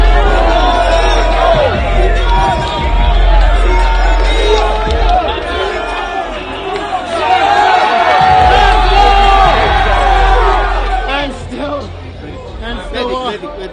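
A large arena crowd at UFC 286 roars and chatters after Leon Edwards retains his title against Kamaru Usman, a loud, sustained wash of cheering and babble with swelling peaks.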